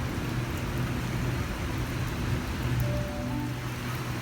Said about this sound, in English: when I got off the train, here it was teeming down with rain.